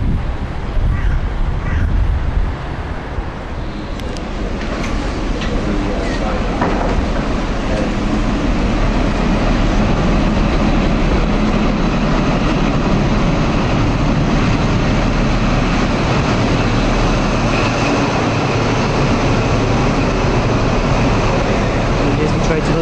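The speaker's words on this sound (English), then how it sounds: "Here's the train to London St Pancras. HST." A High Speed Train bound for London St Pancras rumbles past at close range, a loud, sustained roar of engine and wheels with heavy wind buffeting, the noise swelling after the first few seconds and staying strong.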